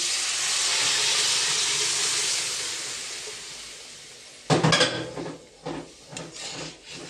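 Boiled vegetables tipped into a hot pan set off a loud, steady steam hiss that fades slowly, then a few sharp sizzling bursts and clatters follow close by.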